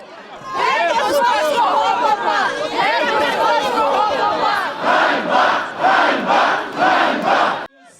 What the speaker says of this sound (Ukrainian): Обурені люди вигукували різноманітні гасла